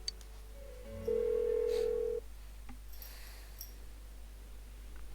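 Phone call going unanswered in Persona 4 Golden, a single steady electronic tone held for about a second over a low constant hum, followed by faint clicks, with no voices.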